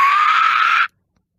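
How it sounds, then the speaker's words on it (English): A barn owl screeches in an audiobook sound effect. The call is a single harsh, loud, sustained shriek lasting under a second, then cuts off abruptly into silence. "The barn owl screeched again."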